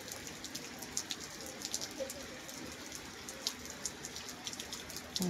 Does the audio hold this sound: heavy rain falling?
yes